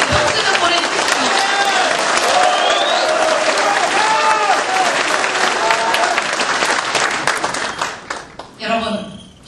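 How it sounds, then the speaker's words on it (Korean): A rally crowd at a joint campaign speech in Daegu breaks into loud, dense applause with cheers, sustained for several seconds before tapering off sharply at the end. "지금 박수 좀 보내주십시오"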